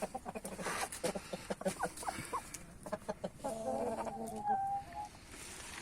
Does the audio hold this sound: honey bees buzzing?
no